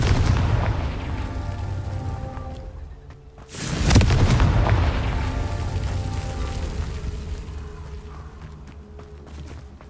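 A Confringo explosive spell going off in the game Hogwarts Legacy, one loud close boom partway through followed by a long rumbling decay over a low steady game background, no voices.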